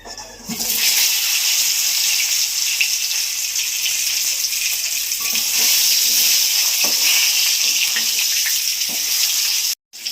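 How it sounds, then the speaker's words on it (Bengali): Steamed potatoes go into hot oil for a Bengali bhetki fish and potato curry, giving a loud, steady frying sizzle that fills the whole stretch. It cuts out briefly near the end, and no one speaks. "আলু দিয়ে দিচ্ছি ভাপানো আলু"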